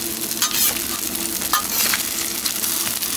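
An omelette sizzles steadily in a hot frying pan for a breakfast wrap, a close, continuous crackle with a few brief scrapes and bumps as it is flipped, without talk.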